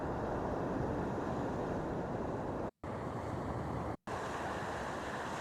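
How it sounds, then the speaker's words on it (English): Looping ocean waves sound effect: a dense, steady wash of surf noise, moderately loud and unbroken apart from two short silent gaps where the loop restarts. "Now here's the ocean loop."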